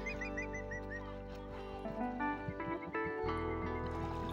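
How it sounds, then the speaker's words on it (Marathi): Bird calling in a coastal mangrove forest beside a creek: repeated short chirping notes in the first half, heard over steady ambient noise with water and a low background hum. "कांदळवनामध्ये पक्षी ओरडते कुठला तरी."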